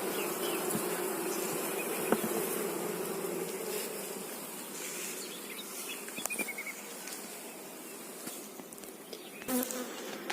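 Honeybees buzz steadily around an apiary during a swarm inspection, a dense close hum with individual bees passing near, occasional light knocks and clicks, no speech.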